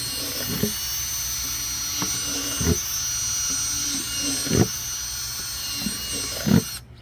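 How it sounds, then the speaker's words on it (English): A power drill drilling drain holes in a bucket gives a steady high-pitched motor whine throughout, broken by several brief grinding bursts as the bit bites in, fairly close. "next thing you're gonna need is a drill. What you're gonna do is make some drain holes"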